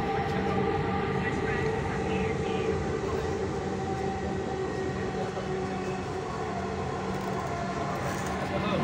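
Dhaka metro rail train running from Motijheel, a steady, loud, continuous rumble and hum with a whining tone, heard from inside throughout without pause.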